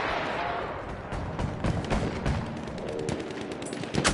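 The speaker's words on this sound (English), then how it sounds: "Machine gun!" Rapid automatic gunfire in a video game, dense bursts of machine gun shots mixed with other weapons fire, loud and continuous, with shouted voices in the background.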